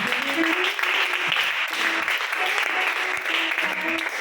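A church congregation claps steadily and cheers in acclaim of Jesus, a dense continuous wash of applause with scattered shouts and voices throughout.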